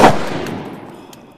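A single gunshot fired into a 40-layer protected iPhone target, a sharp loud crack that decays over about a second outdoors.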